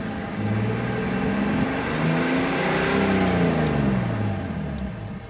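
A BMW 335d diesel engine revs hard and close, its deep rumble climbing and falling in pitch across several surges, loud and steady throughout with no voices.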